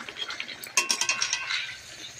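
Bhola fish oil curry stirred in a pan, with a quick run of metallic spatula clinks and scrapes against the pan, close and brief over a faint background hiss.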